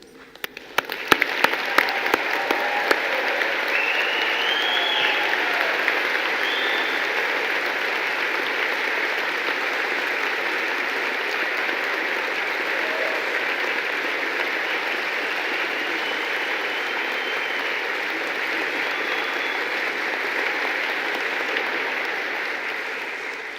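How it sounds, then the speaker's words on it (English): A large graduation audience of veterinary surgeons, nurses and their guests applauds and cheers in a sustained roar of dense clapping that holds steady for over twenty seconds, with a few sharper claps at the start. "we'll just have one final big cheer for you all"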